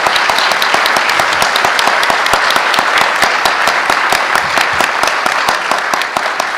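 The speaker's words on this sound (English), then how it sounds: "Would you give them a round of applause for joining in the conversation tonight?" Sustained applause from an audience at a mayoral candidate forum fills the room, dense and loud, many hands clapping evenly throughout.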